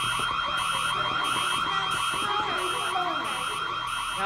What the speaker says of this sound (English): Alarms constantly sound.